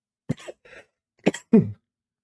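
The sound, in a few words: cough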